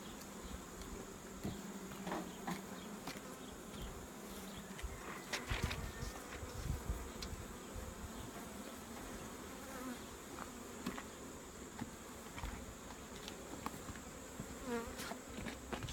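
Honeybees buzzing steadily at close range in an open hive during a brood inspection of a colony with a sterile queen laying drone brood, a dense continuous drone with occasional louder bees passing near.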